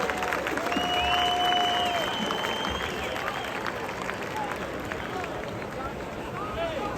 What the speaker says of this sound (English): Let's give them one more round of applause for their induction to the UW Band Hall of Fame.